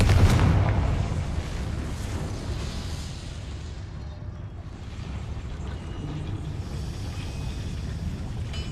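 Confringo fire blast spell cast in the Hogwarts Legacy video game: a sharp burst at the very start gives way to a dense, steady rumbling roar that lingers for several seconds without speech.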